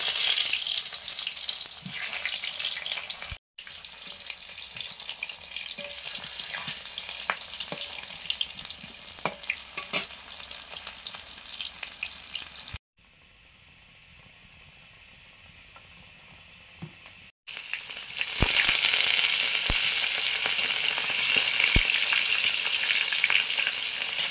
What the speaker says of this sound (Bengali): আলুগুলো ভেজে নিচ্ছি এবারে, সেদ্ধ করা আলুগুলো।